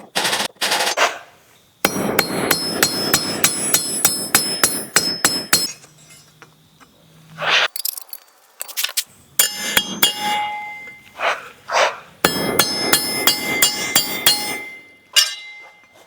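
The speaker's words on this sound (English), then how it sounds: "This is a fun introductory way to approaching joinery because you're setting rivets cold." Cold rivets are hammered on hand-forged steel spatulas in rapid bursts of sharp metallic blows, with bright ringing strikes separated by brief pauses and single taps.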